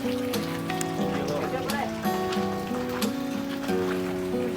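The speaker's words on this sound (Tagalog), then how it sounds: "At lumalakas ang ulan eh." Steady rain pours down under a backdrop of sustained music, the rain's hiss staying fairly even throughout.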